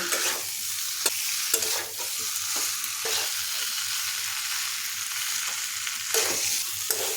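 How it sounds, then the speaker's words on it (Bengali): Spiced potato pieces being sautéed and stirred in a pan for a Kolkata-style curry, with steady sizzling frying and repeated scraping stir strokes, close and continuous with no talking. "আলুটা মশলার সাথে কষিয়ে নেব"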